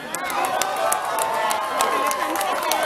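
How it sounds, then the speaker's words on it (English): Spectators cheer a homemade boat crew toward the finish at a boat race, a steady, close crowd roar with scattered shouts and a few claps. "Come on, cheer them in."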